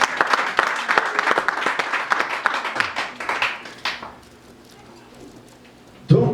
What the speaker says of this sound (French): Acclame la parole.